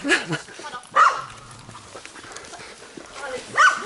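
A dog on a dogtrekking hike at Fryszerka gives short yips and whimpers in a few brief bursts. People talk outdoors between the calls.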